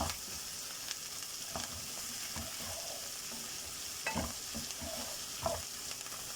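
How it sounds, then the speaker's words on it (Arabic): Onion and minced garlic sautéing in a pan give a steady, close sizzle, broken by scattered scraping clicks from stirring. "هننزل بقى بثلاث فصوص ثوم كده مفرومين اهو، واديهم برضو تشويحه كده مع البصل"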